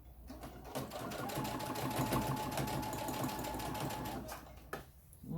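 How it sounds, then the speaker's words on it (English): Sewing machine stitching down a seam on a top: a steady, fast mechanical whir and rattle running for several seconds at close range, then slowing and stopping, with faint voice traces near the end. "I'm going to stitch it down so that the seam doesn't roll."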